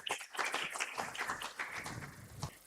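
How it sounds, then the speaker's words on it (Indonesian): Audience clapping at a student community-service send-off ceremony for the Deputy Regent of Kupang, a fairly quiet, continuous patter of many hands that thins slightly toward the end, with no speech over it. "Bapak Ibu boleh kita berikan tepuk tangan untuk Wakil Bupati Kupang"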